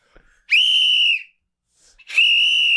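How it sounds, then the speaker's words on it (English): A whistle blown in two long, steady, shrill blasts separated by a short pause, loud and close, with no voices. "It's a whistle."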